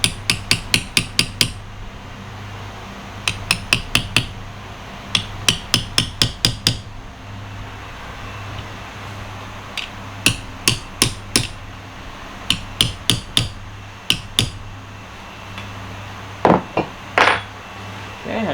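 Repeated sharp metallic tapping while the small locking tabs on a Yanmar saildrive diaphragm seal are bent flat, arriving in quick bursts of four to six strikes with short pauses between, close and fairly loud.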